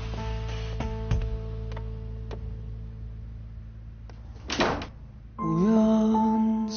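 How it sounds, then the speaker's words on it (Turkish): A door swings shut with a dull thunk and a brief rattle, set amid indoor quiet and a steady background hum, followed by swelling tonal music. "Lütfen kapıyı dışarıdan kapatır mısın?"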